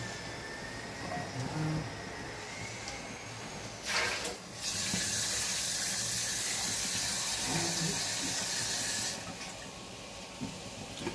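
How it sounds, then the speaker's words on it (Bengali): Water pours steadily into a pot of cooking chickpea curry, a brief splash followed by a longer hissing stream of several seconds, fairly close, with faint background noise. "জল দিয়ে দিলাম, আর একটু জল দেব।"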